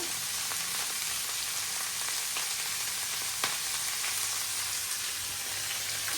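Shredded cabbage fries in a covered pan on the stove, salted with green chilies, giving a soft, steady sizzle and crackle that holds at an even, fairly quiet level throughout.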